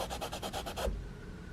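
Soapstone rubbed back and forth on a surface: about seven quick, even rasping strokes in a steady rhythm, close and moderately loud, stopping abruptly into quiet.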